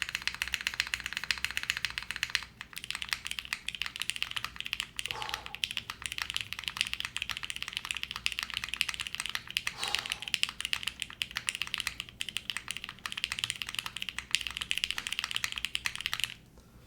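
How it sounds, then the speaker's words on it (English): Typing on an Arc60 plateless keyboard with Ultraglides switches, a steady run of close, fast key clicks and clacks lasting throughout, with a couple of deeper spacebar thumps and no talking. "let's see what this sounds like. It's getting Plateless, Ultraglides"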